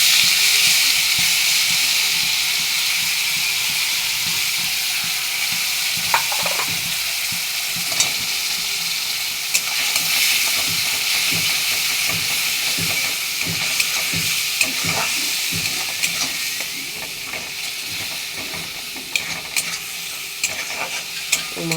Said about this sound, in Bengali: মশলাটা একটু ভাজা হয়ে যাক